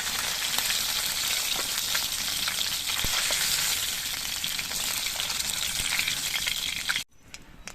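Ganges tengra fish fry in oil in a kadai, giving a close, steady, bright sizzling crackle that runs on evenly and then drops away abruptly near the end, leaving a quiet background. No one speaks.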